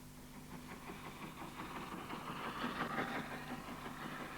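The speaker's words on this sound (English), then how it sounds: "a train hauled by the RSH No. 1 passes a new visitor to the East Lancs" Train hauled by the RSH No. 1 steam locomotive passing on the East Lancashire heritage railway. A steady, moderately distant rumble with faint rhythmic clatter holds at an even level throughout.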